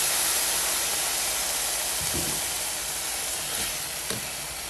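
Arborio rice for a leek risotto sizzles and hisses steadily in a pan after dry white wine is poured in, with occasional soft stirring scrapes.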